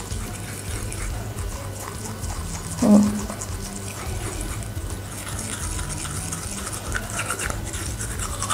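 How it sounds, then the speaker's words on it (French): Teeth being brushed with a toothbrush during natural whitening, a close, steady scrubbing with quick repeated strokes, a brief louder bump near three seconds, and no speech. "vous brossez comme ça et vous attendez, vous laissez reposer pendant 2 minutes"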